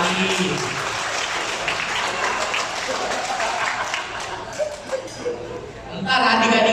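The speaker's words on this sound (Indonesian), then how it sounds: "tepuk tangan dulu untuk Stefani" Guests at a contemporary cuisine celebration in Makassar clap for Stefani, the tumpeng maker, a dense round of applause that thins toward the end before a voice speaks over it.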